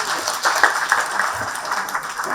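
Brief burst of audience applause closing a plenary panel session on climate-resilient infrastructure, fairly loud and close, a dense patter of clapping lasting about two seconds.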